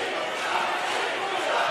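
A wrestling crowd roars at a steel cage tag team championship match, a dense sustained wash of cheering and shouting that fills the whole moment without breaks.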